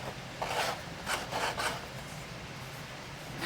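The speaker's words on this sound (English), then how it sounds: "Cutting through 1/4-inch leather." A blade cuts through quarter-inch-thick leather for a saddle seat inlay, a close rasping, rubbing scrape coming in a few short strokes, with no voices.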